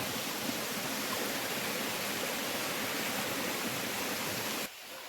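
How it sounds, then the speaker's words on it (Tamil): Forest waterfall on the Agasthyarkoodam mountain trek in Tamil Nadu, a dense, steady rushing roar of falling water that continues unbroken, then drops slightly quieter just before the end. "இது ஒரு நீர்வீழ்ச்சி"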